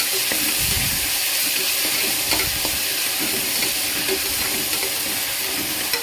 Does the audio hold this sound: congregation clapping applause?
no